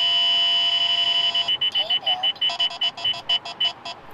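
A radar detector alerts to a highway traffic sensor: a steady electronic tone, then a fast string of loud, evenly spaced beeps that keeps repeating.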